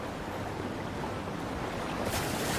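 A waterfall in the Breath of the Wild video game gives a steady, dense roar of falling water with no break, brightening slightly near the end, and no speech.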